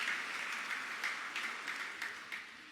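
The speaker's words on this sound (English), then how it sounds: "A big round of applause." Audience applause rises at a Catholic gathering in Cebu as the crowd stands to clap for Couples for Christ, heard as a steady, soft, somewhat distant wash of many hands with small swells throughout.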